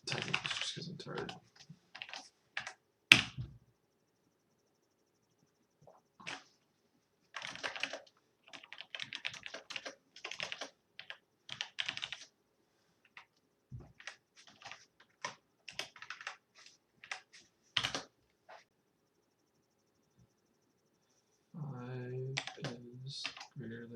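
Computer keyboard typing comes in scattered bursts of quick keystroke clicks separated by quiet pauses, fairly faint and close, with a short stretch of talking near the end.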